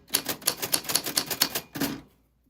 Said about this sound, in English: That is how your name is on a vintage typewriter